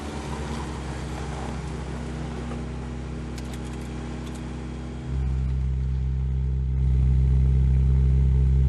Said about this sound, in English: That's quite high revs. Yeah, idle's quite high, yeah.